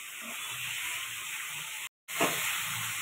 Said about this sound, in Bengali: সব মশলাগুলোকে ভালো করে কষিয়ে নেব।